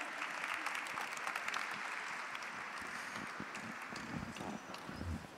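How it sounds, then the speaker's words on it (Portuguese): Audience applause at a literary talk event, a steady dense wash of many hands clapping at moderate distance, continuing evenly for several seconds without speech over it. "Palmas."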